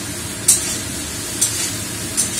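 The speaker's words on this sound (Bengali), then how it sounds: "এখানে কাঁচকলা আলু ভাজা আছে, এবারে এটা দিয়ে দেব। এটা দিয়ে একটু ভাজা ভাজা করে" Raw banana and potato pieces frying in a pan, a soft steady sizzle with three brief sharper spatters or stirring scrapes, close and alone without talk.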